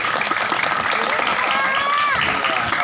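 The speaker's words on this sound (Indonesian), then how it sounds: "Tepuk tangan dulu untuk acara ini." An audience at a maulid religious gathering in a home claps steadily for a few seconds, with a continuous patter of applause under a speaking voice.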